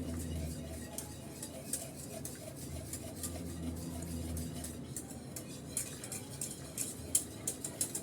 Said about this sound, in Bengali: তাই অনবরত নেড়ে চেড়ে ভালো করে ফুটিয়ে নিতে হবে